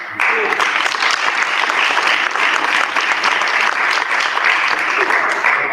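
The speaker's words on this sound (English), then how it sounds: "that municipality deserves a round of applause." Audience applause at a geographical names capacity-building workshop, a loud, steady burst of many hands clapping that carries on evenly for several seconds.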